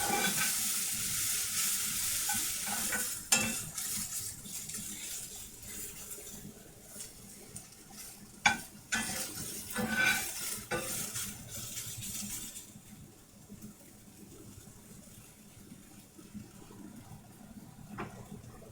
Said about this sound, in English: Sauteing in olive oil here